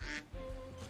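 A duck-like creature in the video game Temtem gives a short nasal quack, with a second brief call near the end, loud and close.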